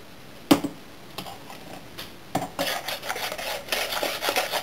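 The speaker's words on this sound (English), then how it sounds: "You're just going to whisk that together till it's combined." A whisk working an egg into Bakewell tart mixture in a bowl: a sharp knock, then quiet, then steady rapid scraping and clinking against the bowl from about halfway through, close and fairly loud.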